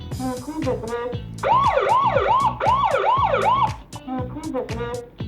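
A loud intruder alarm from a KP Wificam security camera wails in rising and falling sweeps, like a siren, with sharp beeping tones around it.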